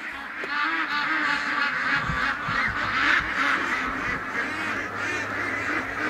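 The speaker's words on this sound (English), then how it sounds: "let's go let the ducks out" A crowd of more than a thousand ducks quacking together as they are let out of their pen, a dense, continuous clamor of overlapping calls held steady and loud throughout.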